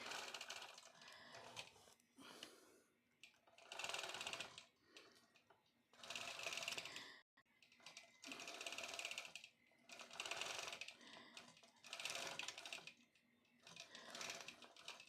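A long-arm quilting machine stitches a brickwork pattern in rapid, steady bursts of mechanical chatter, running in repeated runs of a second or two separated by short pauses, close and clear with no talk.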